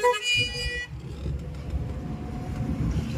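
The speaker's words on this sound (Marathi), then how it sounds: "हॉर्न वाजतोय रे" A car horn sounds sharply for under a second at the start on a road near Khopoli, then fades into a steady rumble of engine and tyre noise from passing traffic.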